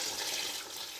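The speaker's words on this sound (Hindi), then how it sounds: "अब हम इसको पानी इसमें डालते हैं।" Water pours in a continuous rushing stream into a cooking pot of beef paya, a brief, steady splash heard up close with no talking.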